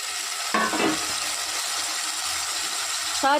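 Ginger garlic paste, tomato and onion frying in a pan for a simple tomato curry, a steady close sizzle with brief scraping stirs near the start and end.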